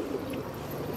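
Pigeons of border breeds such as Kalsire and Teddy coo softly and steadily at a Khanpur loft, a continuous low murmur with no voices over it.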